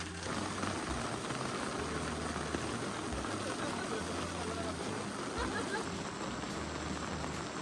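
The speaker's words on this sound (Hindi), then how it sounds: "काफ़ी तेज बारिश हो रही है" Heavy rain pours steadily during snowfall on the Triund trek in Himachal Pradesh, a dense, continuous hiss with low rumbling, loud and close throughout.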